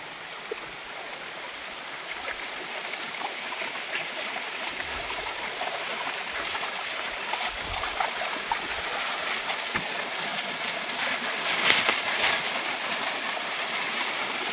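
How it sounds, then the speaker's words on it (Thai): A small waterfall at Mae Ramat, Tak Province, Thailand, running low in the dry season; a steady, full rushing hiss of falling water continues throughout, even and close, with no speech. "น้ำตกก็ไม่ใหญ่เท่าไหร่นะครับ"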